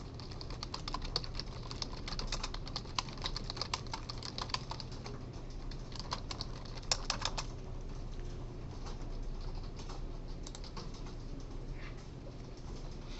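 Soft, steady clacking of keys on a computer keyboard during a programming lecture, with irregular quiet taps running throughout over a low room hum.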